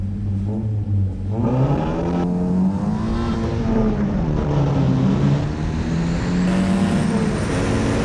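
Mazda Skyactiv cars, a modified 2.0 and a stock 2.5, accelerating hard from a standstill, with one loud engine rising in pitch through gear changes, heard from inside the car.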